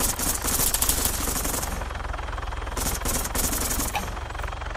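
Enemy gunfire rattles from a tower in the military shooter game Arma 3, dense bursts of rapid automatic shots in a sustained barrage that eases briefly before a second volley, loud and continuous.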